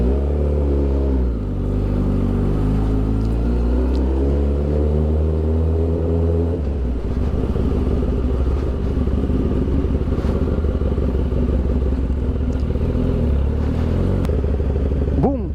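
An X10R motorcycle is ridden on the road near Maple Grove, its engine loud and close. It revs up at the start, then settles into a steady, rumbling cruise with a rattling undertone.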